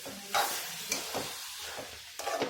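Sri Lankan seeni sambol with tamarind juice is stirred in a pan, a few scraping strokes and soft sizzling bursts in an uneven rhythm, close and moderately quiet.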